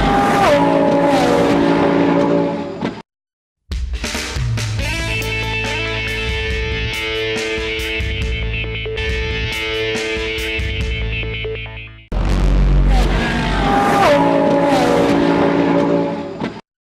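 GT race cars lapping Oulton Park during round one of the 2014 British GT Championship, loud engines roaring and shifting with a brief gap of near silence, then a long sustained pass before the engine noise returns.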